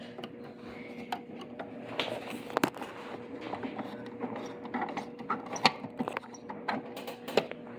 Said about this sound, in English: So first we need to unscrew this screw in here.